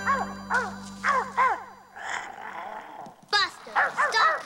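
A cartoon dog yaps in a run of short, high, excited yips and whimpers, close and lively, and character voices speak between the bursts.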